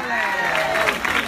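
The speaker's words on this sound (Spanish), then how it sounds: "Vamos a darle un aplauso muy grande para el alcalde y para toda la gente del ayuntamiento." Applause and cheering from an outdoor crowd at a town rumba festival in Norias de Daza, El Ejido, Almería, honouring the mayor and town hall staff, steady clapping with babble and music-like tones throughout.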